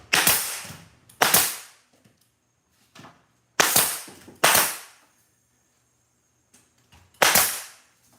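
A pneumatic nail gun fires single nails as sharp, loud cracks, each with a short decaying tail, spaced irregularly a second or more apart, with a faint softer shot or two between them.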